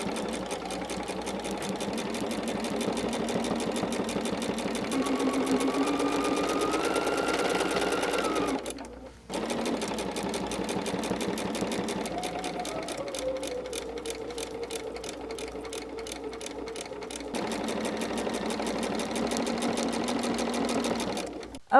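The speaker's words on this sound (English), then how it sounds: "So I'll go ahead and set my machine up to get that quilting done." A sewing machine quilts fabric with a fast, steady run of needle stitching, close and loud, pausing briefly partway and then restarting, with the speed shifting slightly between runs.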